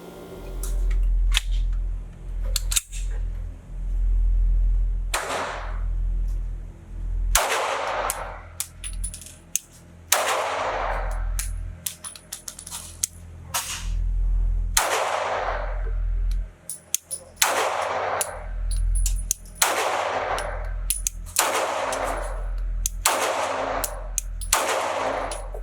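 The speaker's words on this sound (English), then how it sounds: "So I'm gonna show you my first shots, 7 yards. It's gonna be 15 rounds." Sig Sauer SP2022 pistol fired at a range target seven yards away, a long string of loud, sharp shots with uneven spacing, each one ringing out briefly, and no voices.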